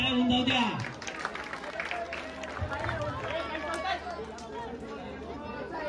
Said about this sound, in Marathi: जरा नटखट गोविंदासाठी जोरदार टाळ्या होऊन जाऊ द्या.